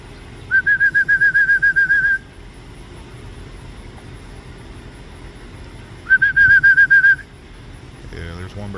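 Racing pigeon passing overhead during a 17.5-mile training toss, two bursts of rapid rhythmic whistling wingbeats, near and fairly loud, separated by quiet outdoor ambience.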